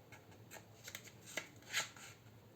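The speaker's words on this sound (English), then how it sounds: "fold the top edge down to the bottom edge and crease well" A square sheet of origami paper is folded edge to edge and creased, giving soft, close rustles and crinkles with a few sharper crackling swipes as the fold is pressed flat.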